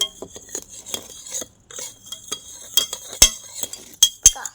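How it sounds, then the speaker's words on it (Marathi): A spoon stirring sugar into fresh well water in a glass, with sharp irregular clinks and scrapes against the sides, loud and close, separated by short quiet gaps. "ते असं साखर मेल्ट होईपर्यंत ढवळतच"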